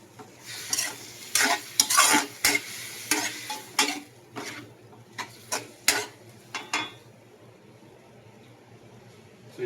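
Pork and chicken adobo frying in a pan, with a spoon scraping and stirring in repeated loud, quick strokes over a steady sizzle; the stirring stops near the end, leaving only a low hiss.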